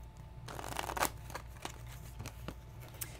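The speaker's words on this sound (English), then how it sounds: "I'm going to shuffle this, too, because I'm seeing a lot of the same card." Flesh and Blood trading cards being shuffled by hand, a soft papery riffle with a few sharp flicks and card slaps, close and moderately quiet, with no talking.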